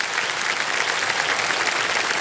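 Steady applause from a studio audience on the KBC quiz show set, dense and continuous for a couple of seconds with no talking over it.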